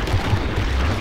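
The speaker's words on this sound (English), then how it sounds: "Grenade!" A grenade goes off in the video game Killing Floor, a loud, sustained low rumbling blast with broadband noise that fills the whole second without a clear onset or decay.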